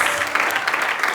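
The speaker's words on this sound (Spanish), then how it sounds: "Dale fuerte las palmas" A church congregation claps hands in a Spanish-language service, a brief burst of brisk, fairly loud clapping from many people, with no voices on top.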